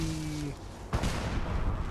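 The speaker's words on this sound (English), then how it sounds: "the fireworks" Fireworks burst in the night sky of Fallout 4's Nuka World, a dense rumbling crackle of explosions with one sharp boom partway through, loud and continuous over game background sound.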